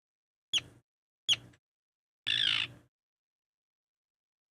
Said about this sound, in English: I wonder what their bird song sounds like